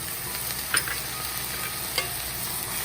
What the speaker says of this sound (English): And now I'm going to continue to mix.